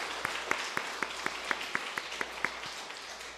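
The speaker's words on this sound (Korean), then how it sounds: "그 하나님 앞에 우리 모두 감사와 영광의 박수 한번 올려드렸으면 좋겠습니다" Church congregation clapping in thanks, a quiet, fairly steady run of about ten distinct claps spaced evenly over a low background hum.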